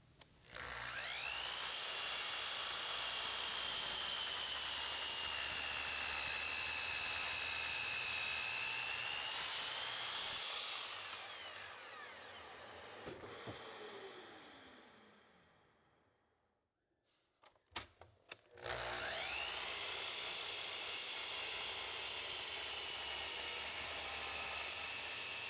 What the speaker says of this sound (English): When I cut away the waste that will create the lap joint, notice that I'm making the cut on the inside of the line.